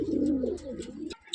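A domestic pigeon coos close by in a soft, throaty, wavering call, heard alone and followed by a short pause.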